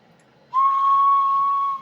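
A single steady, pure whistle tone transmitted over AM radio starts abruptly and holds loud and even for over a second before cutting off.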